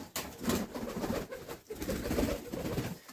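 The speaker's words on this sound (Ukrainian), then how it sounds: "Випускаємо першу пару голубів." Pigeons at a newly built dovecote coo and stir close by in a steady, busy flutter of bird sounds, with no talking.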